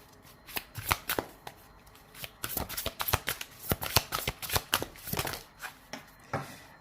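A deck of Aloha oracle cards is shuffled by hand at close range, quiet rapid riffles and slaps coming in irregular bursts with short pauses between.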